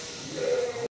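Inside a lambing shed, a single sheep gives a short bleat amid a steady background hiss, fairly faint and lasting under a second.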